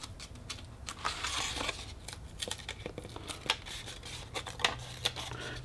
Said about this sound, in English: we're gonna use our fingernails and pull the paper away, revealing the cavity that we're gonna use to fold the paper